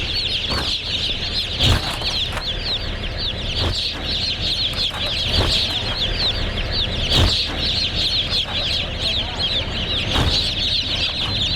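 Farm chickens raised for fast growth cluck continuously as a dense flock, with occasional louder bursts of wing flapping or scuffling, close and busy throughout.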